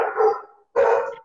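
Two loud, close dog barks, each a drawn-out yelping bark separated by a short silence, with no talking.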